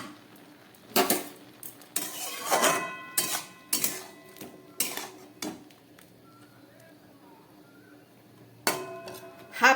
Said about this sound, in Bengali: এবার ঢাকাটা খুলছি।